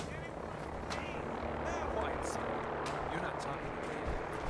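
Helicopters in the Fallout 4 video game drone steadily throughout, a continuous rotor hum blended with game ambience and faint crackles, with a person talking over it.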